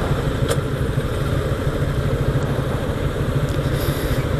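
Several motorcycle engines, four motorcycles and a Honda PCX scooter, idle and rumble together close by, a steady loud throbbing with no talk.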